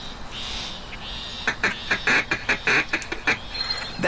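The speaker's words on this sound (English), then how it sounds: "Now you've learned the feed call." A duck feed call in a PS4 hunting game: a quick, loud run of about a dozen clipped quacks, following a softer lead-in note.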